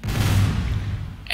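A micromine detonating in the video game Rogue Trooper, a single deep, booming blast with a rumbling tail that fades over about a second.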